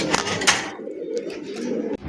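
Pigeons at a bird sale coo nearby, low throaty calls running through the clip, with a couple of sharper rustles or flaps near the start.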